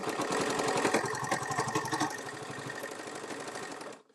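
A sewing machine runs steadily with a rapid mechanical clatter, close and fairly loud, then stops abruptly near the end.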